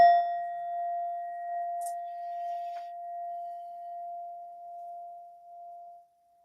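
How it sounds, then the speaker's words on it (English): An Indian brass singing bowl with a Buddha inside is struck and left to ring, a single pure sustained tone that hums steadily for about six seconds before fading out, heard alone. "I use this beautiful Indian brass bowl, and it has a Buddha on the inside, and that sounds like this."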